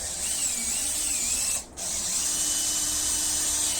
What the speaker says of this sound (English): So drill the hole just inside.